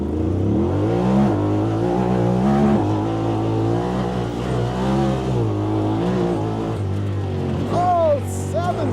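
A Honda Talon off-road vehicle in automatic sport mode with four-wheel drive accelerates hard toward 40 at an off-road park, its loud engine climbing in pitch through repeated gear shifts, close and continuous, with a voice briefly heard near the end.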